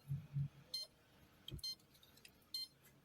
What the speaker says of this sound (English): If you listen carefully, you can hear the motor beeping.